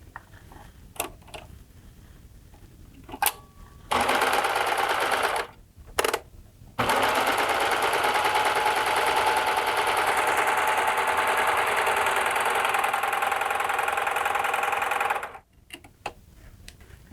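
A Baby Lock Accolade serger runs a 3-thread overlock seam on stretchy Lycra, a loud steady mechanical whir lasting about eleven seconds after brief starts and stops, with no talking.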